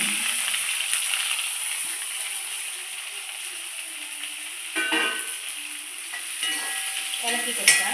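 Onion, green chili and curry leaves fry in coconut oil with a steady, loud broadband sizzle, with stirring scrapes and a few sharper spatter bursts near the end; no one speaks.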